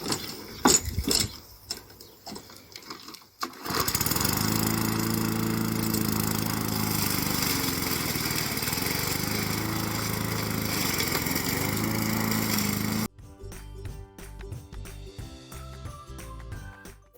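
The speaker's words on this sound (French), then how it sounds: "C'est très facile avec la tondeuse de broyer ces déchets." A lawn mower shredding garden waste such as pulled weeds, its engine a loud steady drone with a lumpy, fluctuating load as debris is chewed, running alone for about nine seconds between clattering handling noises.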